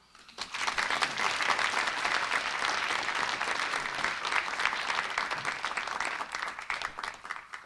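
Audience applause fills the hall after an evening science panel program, a dense, steady wash of many hands clapping that swells in quickly and holds loud for several seconds before easing slightly at the end.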